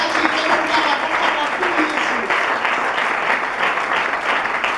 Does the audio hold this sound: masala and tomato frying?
no